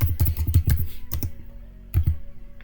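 Quick clusters of close keystrokes clatter on a computer keyboard, one burst of rapid typing, a short pause, then a few more taps, all fairly quiet with no talk.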